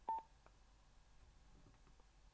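Speed-dial tones from a Cardo PACKTALK motorcycle headset, one short clear beep followed by a few much fainter tone blips over quiet background hiss.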